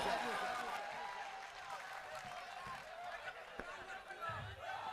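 Applause from a mushaira audience, a dense, steady wash of clapping and crowd noise that stays fairly even throughout, with a few louder bursts near the end.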